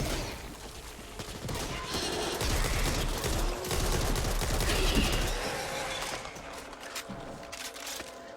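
Rapid gunfire in the zombie shooter Back 4 Blood, aimed at a dying Shredder, rattles on in dense continuous bursts under loud game noise and effects.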